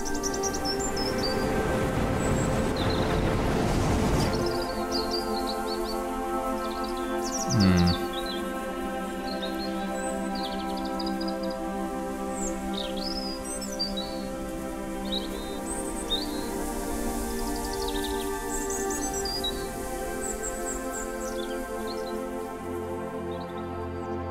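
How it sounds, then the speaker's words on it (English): Seagulls in the video game Hindsight give scattered high chirping calls overhead, moderately loud, over a steady sustained musical drone. "The seagulls are still flying overhead."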